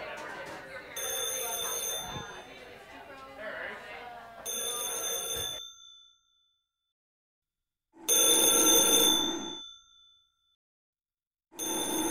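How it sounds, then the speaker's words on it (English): A telephone rings in a pub tap room in four loud, separate bursts of bright electric bell tones, with short silent pauses between them and a busy background murmur under the first rings. "Answer the bloody phone."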